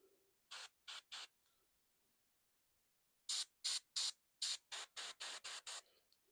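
An airbrush sprays paint onto Warhammer miniatures in short, crisp hissing bursts: three quick sprays, a pause of about two seconds, then eight rapid sprays in a row, close and clear with no talking.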